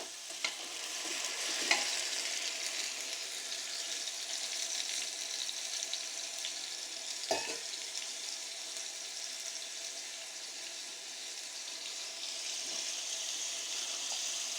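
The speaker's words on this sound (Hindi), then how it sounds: "बहुत अच्छे से हमारी मिर्ची और प्याज और लहसुन और अदरक फ्राई हो चुका है" Chillies, onion, garlic and ginger frying in oil for Pindi-style pulao, a steady soft sizzle running throughout with a few scraping stirs of a spoon, no voices.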